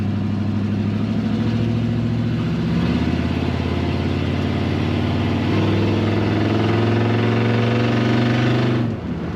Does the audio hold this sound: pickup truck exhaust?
yes